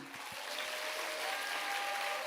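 A church congregation breaks into applause after a testimony about a gifted four-wheel-drive car. The clapping is a soft, diffuse wash heard from a distance, with a few low thumps near the start.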